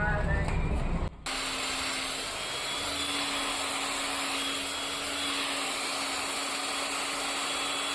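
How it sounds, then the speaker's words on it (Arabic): An electric spice grinder whirs steadily and loudly after a brief start, grinding a burger spice blend; the motor holds a constant high-pitched drone throughout with no talk over it. "تعالوا نطحن بقى ونشوف يبقى شكلها ازاي"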